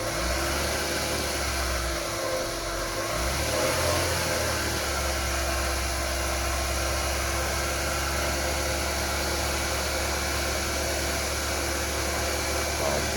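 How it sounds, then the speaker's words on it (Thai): A Chevrolet Optra engine revs and holds a steady, loud mechanical drone with a constant air-conditioning fan hum, its pitch shifting early on before settling into a continuous whir. "เร่งเครื่องครับ"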